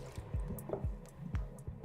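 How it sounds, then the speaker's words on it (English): Water being poured into a container for pizza dough, heard as soft close drips and splashes at an uneven rhythm, fairly quiet and with no voices. "So we first go in with the water"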